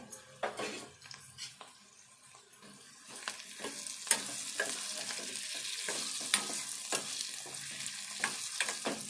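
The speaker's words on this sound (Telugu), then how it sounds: "ఇప్పుడు మునక్కాయలు కూడా కొద్దిసేపు వేగాలి" Pieces of drumstick sizzle in hot oil with onions for a drumstick-tomato curry, with intermittent scraping and stirring clinks against the pan, close and fairly quiet.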